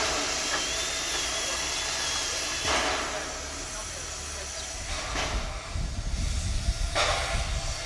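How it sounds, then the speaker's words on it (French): A rail draisine manoeuvres onto a siding, with a continuous rumbling hiss, a few metallic clanks and a rougher rattling stretch near the end, at moderate distance. "La manœuvre terminée, la draisine vient se garer sur la voie d'évitement."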